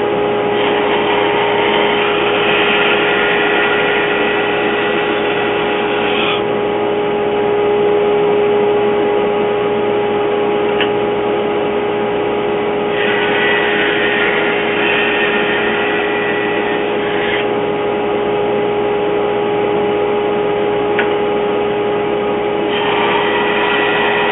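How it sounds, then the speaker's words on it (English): A bandsaw roughs out tenons for a three-legged Chinese-style wooden stool, running as a steady machine drone through the whole stretch, with the pitch of the blade rising at intervals as it bites into the wood. "I'm going to do the bulk of it on the bandsaw"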